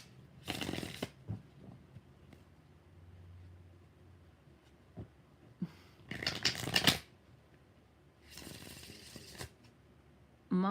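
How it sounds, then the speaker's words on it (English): A deck of tarot cards is shuffled in several quick riffling bursts, close and crisp, with quiet pauses and small handling taps between them. "2 more shuffles."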